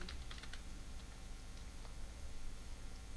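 Keys clatter at a steady pace as a search term is typed on a computer keyboard, close and clear, with quick bursts of clicks over a low room hum and no talking.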